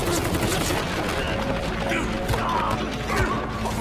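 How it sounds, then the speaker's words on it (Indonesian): Dense gunfire and crashing impacts from an action film shootout between a SWAT squad and gang henchmen, a continuous loud barrage of overlapping shots and smashes with a steady dense backdrop. "Sementara baku tembak terus berlanjut, Donggu dan Sena berhasil masuk ke dalam dan"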